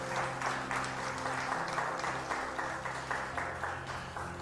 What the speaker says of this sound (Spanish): ¿Cuánto le pueden dar palmas al Señor?